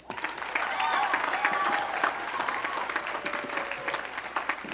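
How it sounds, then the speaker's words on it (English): A high school graduation crowd applauds the final valedictorian, full clapping rising quickly and holding steady before thinning slightly, with some cheering and voices mixed in. "please give a round of applause to our final valedictorian"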